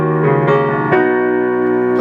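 Piano playing the pre-chorus variation of a song, a few sustained chords struck in a short phrase, close and fairly loud with no voices.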